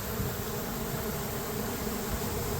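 A dense, steady buzzing of many honeybees fills the air continuously, close and loud, with no voices, during a swarm at a soccer camp.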